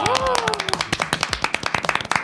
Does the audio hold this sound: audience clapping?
yes